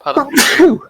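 A single sharp sneeze bursts out close by, followed at once by a brief spoken reply from the same voice.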